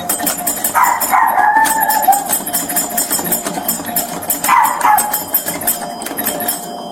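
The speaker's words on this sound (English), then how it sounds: "I'll make her dog bark until..." A dog barks and yelps in two bursts, fairly close, with an engine rumbling steadily underneath.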